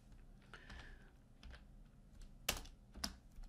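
Close, quiet clicks of a computer keyboard as PHP code is typed: a few soft, scattered keystrokes followed by two sharper, louder key taps near the end, with no voice.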